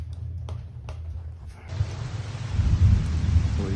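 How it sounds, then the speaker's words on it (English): Steady rain hisses and patters outdoors while low thunder rumbles continuously underneath, the downpour swelling louder partway through. "We got rain."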